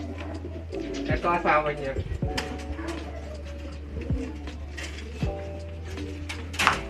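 Breeding pigeons coo repeatedly nearby in low, rolling calls, while someone talks over them in Filipino.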